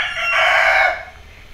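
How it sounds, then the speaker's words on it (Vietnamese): A rooster crows loudly and close by in a single sustained call of about a second, rising to full strength and then tailing off, with no other sounds over it. "gà nó gáy liên tục, nó gáy từ video tụ bài số 1 đến bây giờ rồi"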